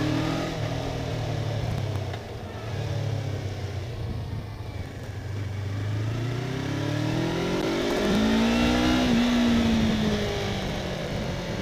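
Twin-cylinder engine of a 2019 Yamaha R3 motorcycle heard from the rider's open helmet, a steady mid-pitched drone under wind rush that rises into a brief rev near the end.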